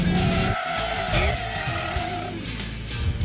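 Car tyres skid and squeal through a J-turn, with loud, continuous screeching over a straining engine and shifting, sweeping pitch, no voices.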